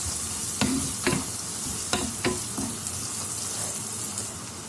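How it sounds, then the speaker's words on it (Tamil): Sliced onions sauté in a pan for a Tamil-style ayilai fish curry, giving a soft, continuous sizzle broken by several sharp scrapes and clinks of a spoon stirring against the metal. "வெங்காயம் வதங்கிட்டு இருக்கு, நல்லா வதங்கட்டும்."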